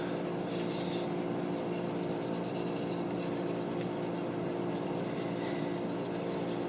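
Light steel wool sanding on wooden AK rifle stock pieces using fine 4/0 grade: a steady, soft rasping rub continuing throughout at close range, with no talking.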